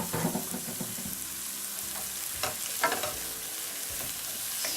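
Cauliflower sautés in butter in a pan, giving a steady sizzle broken by clattering scrapes and stirring knocks at a moderate level, with no speech.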